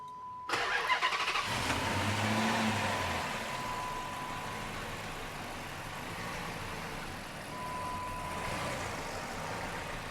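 A V8 Dodge Charger, a cheap fixer-up car, cranks briefly and fires, then settles into a steady, loud idle close by, with no talking over it.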